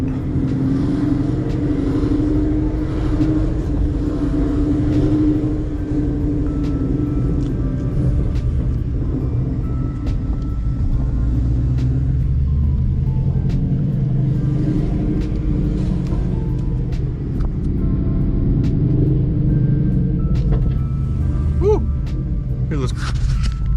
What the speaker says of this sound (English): Cracks and pops sound so badass.